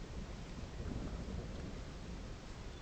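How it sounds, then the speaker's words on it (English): Distant thunder rumbles through a storm, a steady low roar blended with rain hiss and wind over about three seconds, with no talking. "That's the thunder we want."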